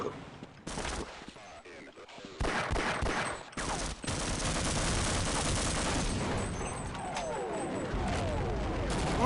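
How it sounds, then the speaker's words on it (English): Bombing and gunfire in the video game Half-Life: a dense, continuous roar of blasts and rattling shots that builds into a sustained, loud barrage after a few scattered bursts. "They're bombing their own people, man."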